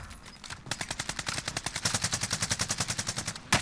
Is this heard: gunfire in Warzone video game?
yes